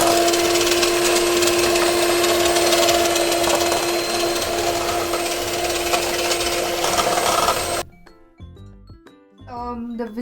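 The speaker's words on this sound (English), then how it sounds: "Now I'm going to blend it. Again, take my hand mixer and start" Electric hand mixer blending eggless carrot cake batter of whole wheat flour, milk and vinegar, a loud steady whirring drone for about eight seconds that then cuts off abruptly, followed by quiet handling sounds and a voice speaking.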